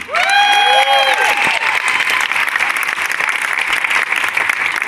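Loud, sustained applause with cheering and whistles from a large audience at an Alzheimer's charity walk, continuing steadily throughout.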